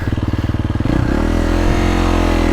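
A KTM 350 motorcycle engine running close by, first a rapid pulsing idle, then revving up to a steady, loud, even drone.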